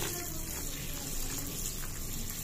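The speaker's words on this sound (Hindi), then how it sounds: "ये देखते हैं चावलों की हो रही है धुलाई।" Rice is washed in water in a home kitchen, a continuous sloshing, running-water rush with faint background noise, fairly quiet and unbroken.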